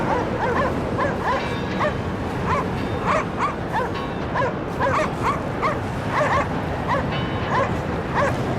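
A dog in the video game Cryostasis barks and yips repeatedly in quick bursts, close and loud, with a few whimpering notes over a low rumbling game background.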